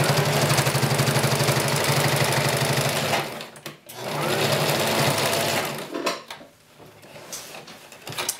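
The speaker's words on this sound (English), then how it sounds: "now we're gonna sew it in" A sewing machine stitching sequin pillow pieces for a pineapple cushion, a loud, close, fast steady whir that runs for about three seconds, then stops and restarts in shorter bursts with pauses between.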